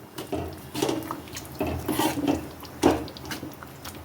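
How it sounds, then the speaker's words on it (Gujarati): Tomatoes are stirred in a cooking pan for sev tameta nu shaak, giving soft scraping and clinking of a spoon against metal in irregular strokes, moderately close and fairly quiet, with no talk. "હવે તેને આપણે હલાવી દઈશું।"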